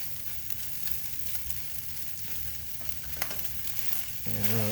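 Two eggs fry in a pan for fried rice, giving a soft, even hiss at close range that continues without pause.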